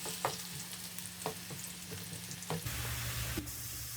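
Thinly sliced onions fry in oil in a pan, a soft, even sizzle with occasional light clicks of a spoon, fairly quiet and close.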